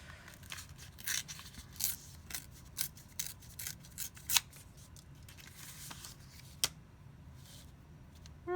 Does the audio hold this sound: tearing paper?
yes